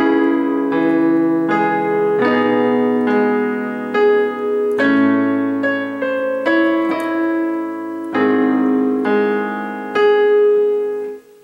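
Piano plays part 3 of a song from Over the Garden Wall at a slowed tempo, with separate struck chords and melody notes ringing in turn, close and unaccompanied.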